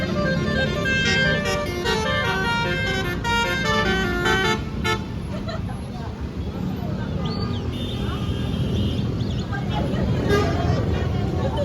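Heavy traffic on a busy tourist road near Medan, with a mountain bus passing and horns tooting over a steady engine rumble while people talk throughout.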